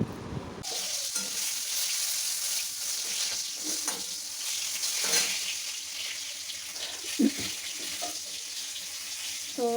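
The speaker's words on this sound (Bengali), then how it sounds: "আর এখন করছি পটল ভাজা" Pointed gourd (potol bhaja) frying in a pan, a loud steady sizzle that starts abruptly and runs throughout, with occasional scrapes and clinks of a spatula or utensil over the hiss.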